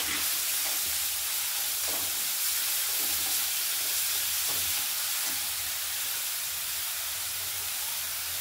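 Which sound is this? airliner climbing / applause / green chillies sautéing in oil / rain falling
green chillies sautéing in oil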